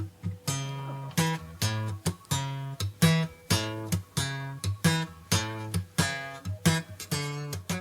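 Rumba rhythm for a 12-bar blues played as steady, repeating plucked bass-heavy notes with a bouncing, even pulse, close and moderately loud, no talking.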